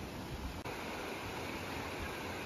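A waterfall in Johnson Canyon roars as a dense, continuous broadband rush, close and steady throughout with no voices.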